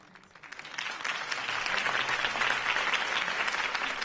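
Crowd applause at a campaign speech in the video game Telltale Batman, building quickly from a few claps into steady, dense clapping that lasts a few seconds.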